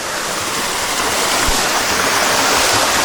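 Water flows down over rocks on the southern coast of Bohol in the Philippines, a loud, steady rushing wash close by with no other sounds.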